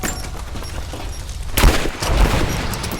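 Gunfire in the video game Rise of the Tomb Raider: a quiet, murky stretch breaks into a sudden loud burst of shots that keeps on as dense, close firing.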